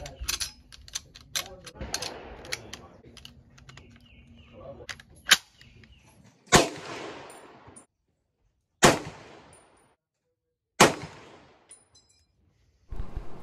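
Several M1 Garand rifle shots fired while zeroing at a range, each a sharp loud crack with a short decaying tail, spaced a couple of seconds apart, after softer clicking and handling noises.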